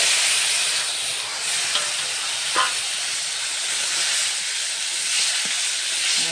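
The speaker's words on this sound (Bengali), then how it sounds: "মশলাটা একটু কষিয়ে নিলাম" Ground cumin, ginger, chilli, garlic and onion paste frying in oil for a fish curry, a steady bright sizzling hiss throughout with a few faint clinks, close by.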